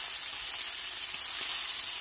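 Steady, close sizzling of mushrooms and carrots stir-frying in a hot pan, a continuous crackling hiss with faint stirring underneath.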